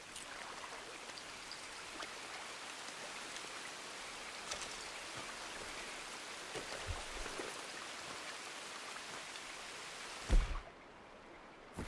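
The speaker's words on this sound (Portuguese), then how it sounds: "Legal de chuva assim à noite." Rain falls at night in Red Dead Redemption 2 as a faint, steady hiss of drops that continues throughout, broken by a brief dull thump near the end.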